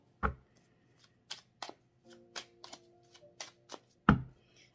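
Tarot cards are shuffled for a reading, giving a series of close, soft riffling slaps and taps with uneven rhythm and no voice.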